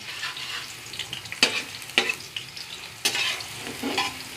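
Garlic frying in a pan, with a steady soft sizzle and a few sharp scraping stirs, close and moderately quiet.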